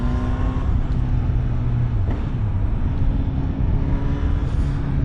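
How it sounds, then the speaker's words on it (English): A 2025 Honda CB1000 Hornet SP naked motorcycle's engine drones loud and continuous, a steady rough roar with slight pitch shifts as it rides along, no talking over it. "the bike just screams. It just sounds so nice."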